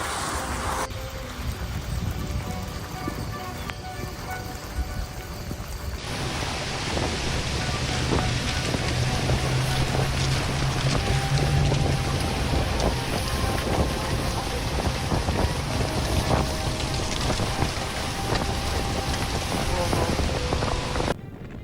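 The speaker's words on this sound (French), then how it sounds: "Énorme tempête de sable dans le désert du Taklamakan le 29 août 2024." Huge sandstorm sweeping across the Taklamakan desert, a dense continuous roar of wind and blowing sand that swells louder after a few seconds and stays steady throughout, with no voices.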